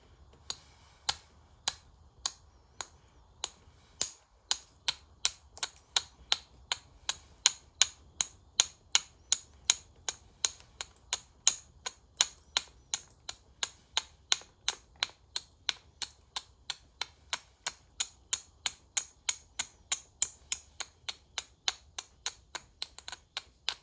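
Obsidian being knapped to bevel the edge, sharp hard clicking taps repeating at a fairly even rhythm, dozens in a row, close and crisp against a quiet background with no speech.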